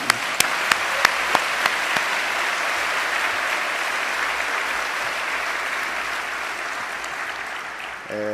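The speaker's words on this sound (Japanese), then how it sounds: "研修生の皆さんは2度も大きな拍手をいただいているんですから" A hall audience gives steady, sustained applause for trainees at a Japanese religious ceremony, a dense wash of clapping lasting throughout with a few sharper claps near the start, no voices over it.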